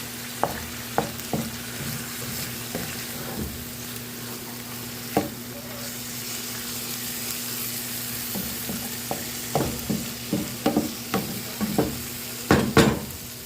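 Pork, string beans, broccoli and cauliflower frying for fried rice, stirred in a pan: a steady low sizzle with a mains-like hum beneath, broken by scattered sharp scrapes and clacks of the utensil that cluster into a busy burst near the end.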